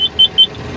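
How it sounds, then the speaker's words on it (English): Alarm on a Model 34 brush fire engine as its auxiliary pump starts: three short high electronic beeps in quick even succession over a low engine rumble. "Firing it up until you hear that alarm go off"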